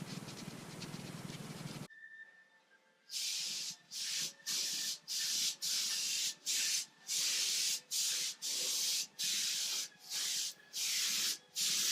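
A spray gun lays a final coat of blue paint onto a child's wooden table in a rhythmic run of short hissing bursts, about a dozen evenly spaced passes after an opening stretch of broadband noise and a brief quiet gap.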